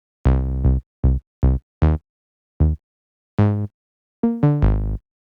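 A dirty synth bass with drive and slight filter-cutoff modulation, unprocessed, plays a rhythmic line of short, punchy, buzzy notes with gaps between them, ending in a quick cluster of notes, loud and alone.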